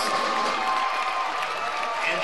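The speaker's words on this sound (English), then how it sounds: "let's give a big round of applause to our Foothill Chinese dual immersion class" A crowd in a high school gym claps for a Chinese dual immersion school class at a boys basketball game between Ogden and Box Elder, a steady wash of applause that continues for the whole stretch.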